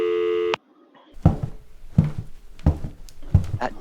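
A steady electronic telephone tone sounds loudly for about half a second, then stops abruptly, followed by rhythmic thudding sounds.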